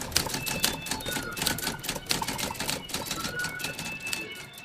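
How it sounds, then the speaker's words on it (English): Fast, steady typing on a keyboard at a desk, a dense run of crisp key clicks and taps continuing without pause, close and moderately loud, with no talk. "iPad down, back to typing."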